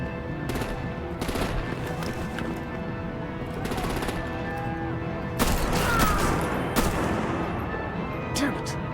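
Artillery and machine-gun fire in Batman: The Enemy Within, a dense, continuous barrage of rapid shots with several sharper blasts standing out, all over a steady loud din of combat.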